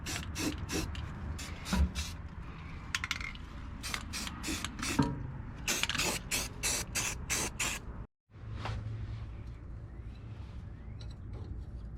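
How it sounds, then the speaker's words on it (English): Short bursts of aerosol spray hiss as rust reformer is sprayed on a truck, repeated in quick succession, with a brief silence before a lower mechanical hum continues. "I'm going to go through and spray some rust reformer."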